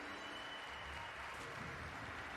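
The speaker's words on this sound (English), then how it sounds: "You can hear the crowd right now." A large arena crowd at a Dota 2 International esports match gives off a continuous distant roar of cheering and applause, steady and moderately faint throughout.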